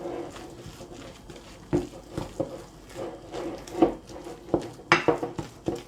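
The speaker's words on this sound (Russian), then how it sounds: "Всю эту ароматнейшую смесь перемешиваем." A spoon stirring a spice and garlic-scape mixture in a bowl: irregular close clinks and scrapes of metal on the dish, a few sharp knocks standing out over a soft rustle.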